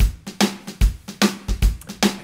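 Electronic drum machine beat used as a backing for ukulele play-along, a steady pattern of punchy low kicks and bright snare hits repeating about every 0.4 seconds, loud and close with no voices.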